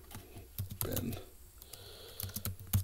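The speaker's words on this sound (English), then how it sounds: "I suck at typing when talking" Sharp, irregular keystrokes tap on the keyboard of a 2016 Samsung Chromebook 3, close and uneven, with a short burst of speech partway through.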